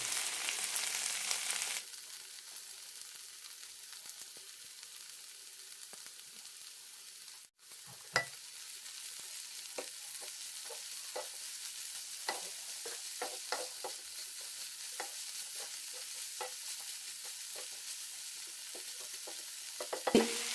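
Potato and fenugreek leaves stir-frying in a pan for a Kerala-style stir fry: a steady soft sizzle with repeated light scrapes and clicks of a spatula, fairly close and continuous with no talking.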